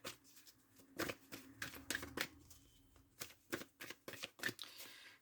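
Oracle cards are shuffled and cut by hand, sounding as a series of sharp, close riffling snaps at uneven intervals with soft handling noise between them.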